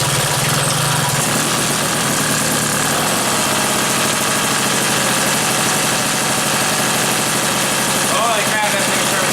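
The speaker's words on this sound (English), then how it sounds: "when you spray the carb cleaner, you'll hear a bump up in the revs" Small two-stroke engine of a restored Motobecane moped running loud and steady throughout, with no clear rev rise, while carburetor cleaner is sprayed around the intake to find an air leak.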